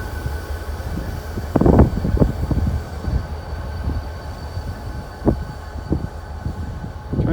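A train rolls past a level crossing on a snowy day, its railcars producing a low rumble with several sharp clunks and squeals from the wheels, fairly close.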